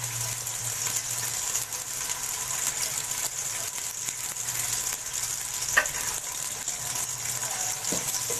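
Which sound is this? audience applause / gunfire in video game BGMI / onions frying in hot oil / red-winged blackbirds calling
onions frying in hot oil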